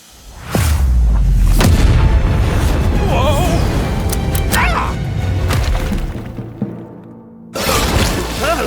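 A dehydration gun fires during an animated battle between cartoon characters: loud booming blasts, shattering crashes and whooshing effects in quick succession, cutting off briefly before another burst of impacts.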